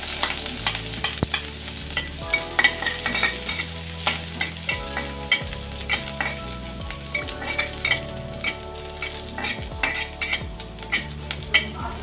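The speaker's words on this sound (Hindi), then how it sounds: "इसके बाद मैं इसमें ये हरी मिर्च, अदरक और लहसुन तीनों को एक साथ ऐड कर दूंगी।" Green chili, ginger and garlic sizzling with bottle gourd in a pan, a continuous crackling fry with frequent metal spoon scrapes and clinks as the mix is stirred.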